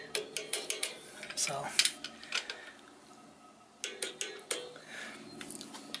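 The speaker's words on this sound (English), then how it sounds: "I'm just gonna tighten these ones down." A hand ratchet tightens the bolts on a Melling M451 oil pump on a 6.7 Cummins engine, clicking in quick rhythmic runs with a pause between them, close and clear, with faint metal clanks and a single brief spoken word.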